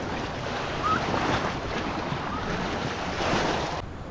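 Ocean surf at Limbones Island washes in a continuous broad roar, with gusty wind buffeting the microphone and swelling slightly as waves break, with no voices over it.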